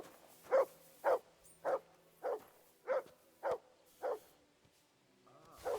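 A dog barking in the video game Kingdom Come Deliverance II, eight evenly spaced, moderately loud single barks at a steady rhythm over a quiet background.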